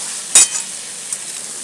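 Spice masala paste being sautéed in a pan for gule fish curry, a soft continuous sizzle with one sharp scraping clink of a spoon against the pan and a fainter stir after it.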